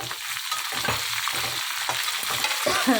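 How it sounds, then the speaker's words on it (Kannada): Finely chopped onion frying with crushed garlic in a pan for tamarind rice, a soft continuous sizzle broken by repeated stirring scrapes, close and moderately quiet. "ಈರುಳ್ಳಿದು ಹಸಿ ವಾಸನೆ ಎಲ್ಲ ಹೋಗಬೇಕು ಆ ಥರ ಚೆನ್ನಾಗಿ ಫ್ರೈ ಮಾಡೋಣ"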